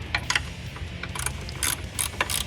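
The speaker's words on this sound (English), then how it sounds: "I'm going to get to that using a wrench, 10mm" A 10mm ratchet wrench loosens nuts on a 2012-2016 Jeep Wrangler JK during an ignition coil install, giving rapid, close metallic clicking in quick bursts over a low engine-bay hum.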